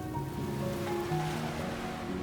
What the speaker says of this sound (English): the Atlantic crashing against the shore.